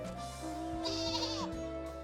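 In Final Fantasy XIV Dawntrail, a sheep bleats a few wavering times over steady game music and ambience, fairly quiet and mixed into the soundtrack.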